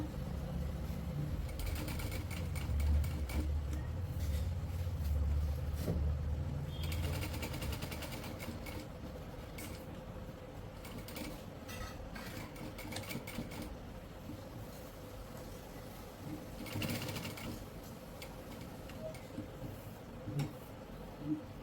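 A sewing machine stitching the collar of a kurti, its motor whirring in several runs of steady rapid stitching, separated by quieter pauses, close and moderately loud.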